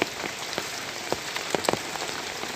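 Rain falls steadily in a constant hiss, with scattered louder drops striking a surface close by at irregular moments; no voices.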